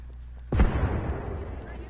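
A frag grenade detonates in Apex Legends, one sudden heavy blast halfway through that fades into a rumbling decay after a quieter lead-in.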